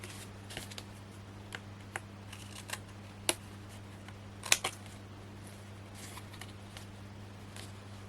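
Knife or scissors snipping and cutting the foam-backed underside of a Hunkydory Cottage Garden card craft piece, a series of small sharp clicks and snips over a low steady hum, close and fairly quiet.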